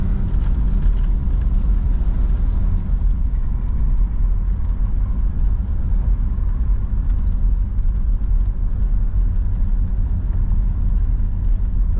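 A 1968 Chrysler Imperial with a 440 engine, torsion bars turned up and a rear lift kit, driving along a road; a steady, loud engine and road rumble continues without a break.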